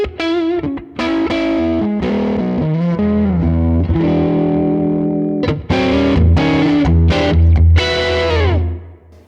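An electric guitar plays through a Dumble-style amp model on a Line 6 Helix Stadium, with warm overdriven sustained chords and single notes ringing out loud and continuous, with no talking.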